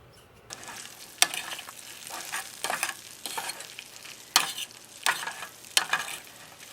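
Farmer's sausage and hash browns frying in a pan, a quiet continuous sizzle broken by bursts of scraping and stirring at irregular intervals.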